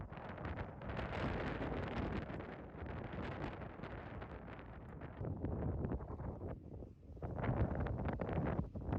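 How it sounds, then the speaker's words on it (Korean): Strong wind blowing and buffeting the microphone at a seaside campsite on Biyangdo, Jeju in March, a loud continuous roar with gusts throughout and no talk. "와, 바람."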